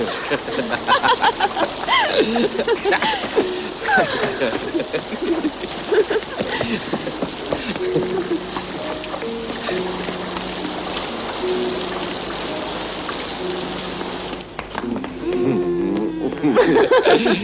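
Steady rain patters continuously in a dramatic scene, a soft hiss of falling drops running under voices, brief laughter and background music.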